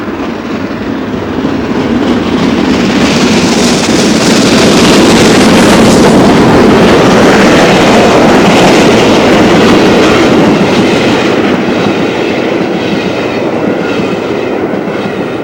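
LNER 4472 Flying Scotsman steam locomotive runs past on a main line in March 1986. A loud, continuous roar of train and rolling wheels with steady rail clatter fills the whole stretch, and no voices are heard.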